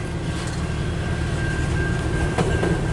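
A long CN eastbound mixed freight train led by CN 8898 and CN 2462 rolls past close by in Port Huron, Michigan, its loud rumble and clattering wheels holding a steady whine, with a sharp clank near the end.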